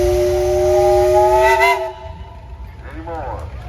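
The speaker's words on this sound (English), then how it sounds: "Hey, you got a whistle." Steam traction engine whistle at a threshing show tractor parade blows one sustained, loud harmonic tone for about two seconds, then cuts off, followed by brief distant voices over a low engine rumble.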